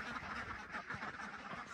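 Dense, continuous quacking from a crowd of hungry ducks close by on a farm, busy and overlapping throughout.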